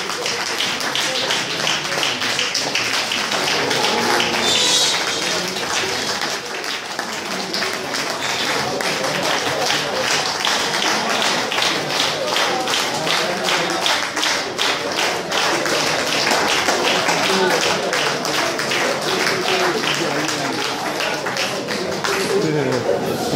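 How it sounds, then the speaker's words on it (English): An audience at a health ministry press briefing gives sustained, rhythmic applause with dense rapid claps that continue steadily throughout, while voices murmur beneath it. "I think the ministry deserves another standing round of applause for all of us"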